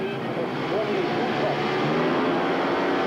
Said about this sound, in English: Up go the tapes, the engines roar into action.